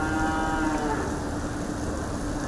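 Cattle lowing on an Italian farm during a drought, a long sustained moo over a dense, loud ambient bed of other animals and farm noise.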